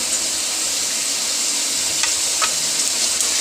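Beef pieces searing in a pot for a degi korma, a steady close hiss of frying with a couple of brief scraping stirs near the end, no voices.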